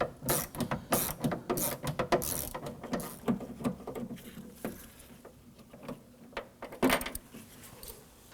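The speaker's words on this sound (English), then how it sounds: "I'm gonna go ahead and put our Torx bit right inside there" A T20 Torx bit on an extension loosens the exterior door handle screw on a 2008-2011 Ford Focus, giving a close, busy run of clicking ratchet and metallic mechanism sounds with uneven rhythm.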